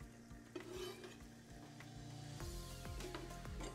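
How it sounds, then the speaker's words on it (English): Gentle sizzling of ginger frying in ghee, with a spoon stirring and scraping the pan in scattered strokes, close and fairly quiet. "Listen for that gentle sizzle."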